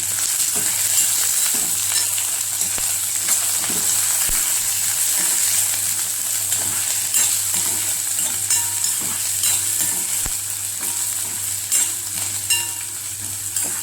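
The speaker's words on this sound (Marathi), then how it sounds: "हिरवी मिरची आणि कढीपत्ता, तर हे सगळं व्यवस्थित परतवून घेऊया" Green chili and curry leaves sauté in a pan with onion, giving a steady loud sizzle and fry hiss throughout, punctuated by occasional stirring clicks and scrapes.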